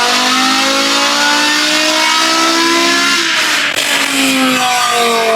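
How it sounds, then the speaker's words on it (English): A 2006 BMW M5 with a modified stroker S85 V10 revving hard, a loud close rising engine howl with climbing harmonic tones, a brief dip mid-way, then pulling up again, with no talk. "2006 BMW M5 with the S85 V10 engine, but this isn't your normal S85"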